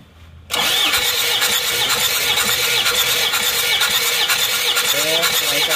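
An Isuzu Panther diesel engine cranks on its starter during a compression test, with a steady, loud whirring drone that begins abruptly and runs unbroken, with a faint squeal mixed in.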